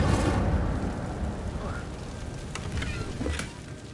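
An Incendio fire spell cast in a Hogwarts video game bursts out as a dense, roaring rush of flame with crackling flickers, loud at first and then steadily sustained for several seconds.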